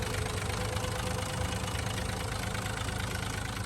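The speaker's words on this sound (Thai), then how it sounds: "ครับเครื่องหกสูบนะครับ" The six-cylinder engine of a 1998 Tadano TR160M-3 16-ton crane truck runs at a steady idle, a loud, close, rough diesel rumble that stays constant throughout with no talking.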